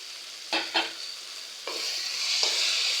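Ginger garlic paste sautés in a pan with tomatoes for a village-style chicken curry. A soft, steady sizzle runs throughout, broken by a few sharp scraping stirs of a spoon against the pan, and the frying hiss grows a little louder toward the end.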